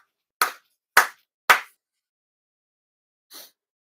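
Four ceremonial hand claps at a year-end purification and appreciation ceremony: three sharp, close claps spaced about half a second apart, a pause, then a fourth softer one, with silence around them.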